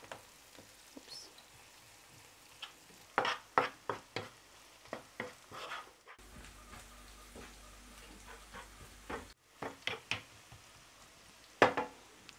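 Turmeric and whole chilies fry in a pan with a soft crackling sizzle, while a spoon stirs them in bursts of scraping and tapping against the metal; the sizzle stays fairly quiet throughout.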